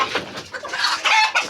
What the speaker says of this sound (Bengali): এই যে মুরগির ঘরটা, এখানে অনেকগুলো মুরগি আছে, প্রায় 30টা মুরগি